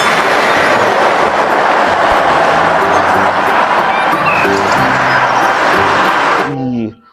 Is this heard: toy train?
yes